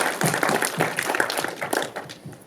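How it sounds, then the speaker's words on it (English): An audience at a film screening Q&A applauds, dense close clapping with some sharp individual claps, fairly loud and sustained before tapering slightly at the end, with no talk. "So go ahead and applause for him."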